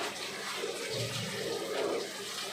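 Gobindobhog rice rinsed with running water for khichuri in a home kitchen, a steady close splashing and gushing flow heard alone without a break.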